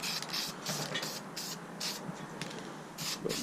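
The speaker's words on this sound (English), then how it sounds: "You've got to spray really heavy to get a run with this" Bursts of aerosol spray paint hiss onto a valve cover being coated with wrinkle paint, repeated short sprays with brief pauses, close and steady.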